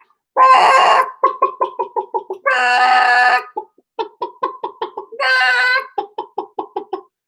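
A chicken clucks in rapid rhythmic runs, broken by three loud, drawn-out rooster crows, close and clear with no other sound.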